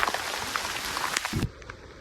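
Heavy rain pours in a dense, steady hiss on a hill trek to Bhivgad fort near Karjat, then cuts off abruptly just before the end.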